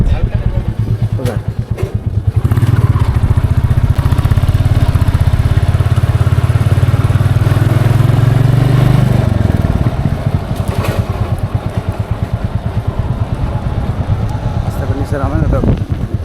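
A motorcycle engine runs close by at a park entrance, a loud steady rumble that holds for several seconds before easing off, with people talking over it throughout.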